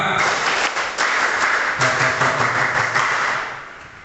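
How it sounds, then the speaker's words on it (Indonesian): Students performing the scout clap (tepuk pramuka) as a group, a loud run of massed claps with some rhythmic accents, close and alone. "Sekali lagi, tepuk pramuka."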